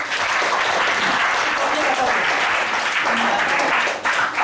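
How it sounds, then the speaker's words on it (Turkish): An audience at a school report-card ceremony in Midyat applauds a student being honoured, a dense, steady wash of clapping that holds loud for several seconds with a brief dip near the end. "Şimdi Hasan Abdullah'ı alkışlayalım."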